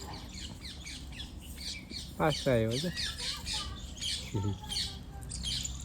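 A parrot gives a harsh, rising squawk midway through, with a shorter cry later, heard outdoors in a village setting over ambient chirps while a person speaks.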